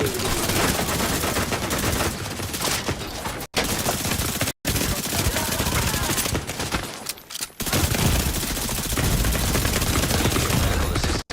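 Automated hostile turrets in The Division 2 fire loud, sustained bursts of rapid gunfire, dense and close, broken by a few abrupt cuts to silence.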